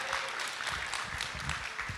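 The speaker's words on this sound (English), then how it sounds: "Can I get a round of applause for group number 2?" Applause for a group at a community steering committee meeting in Fresno, a brief burst of steady clapping from a roomful of people, fairly faint and distant.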